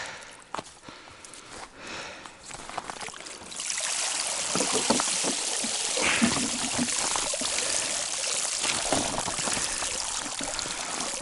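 Water pours and splashes steadily at close range during a winter expedition on the Pechora River, starting softly and then swelling into a loud, continuous gush that holds to the end, with no talk over it.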